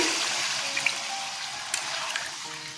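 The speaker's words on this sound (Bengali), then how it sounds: "মুঠটা সেদ্ধ করেছিলাম সেই জলটা দিয়ে দিচ্ছি।" Water from boiled muitha dumplings is poured into a pot of Bengali muitha dalna curry that has just finished frying with spices, producing a steady liquid hiss and sizzle with a few small splashes, close and moderately loud.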